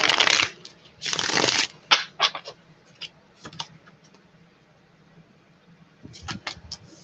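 Tarot cards being shuffled by hand, with bursts of crisp riffling and rustling followed by scattered light card taps and flicks, close and fairly quiet, with no talking.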